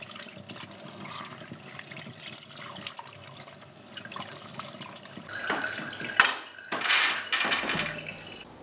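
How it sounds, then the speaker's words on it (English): Water runs from a tap over squash seeds being rinsed, a soft steady flow that builds toward the end with splashing and louder gushes near the close. "Rinse with water."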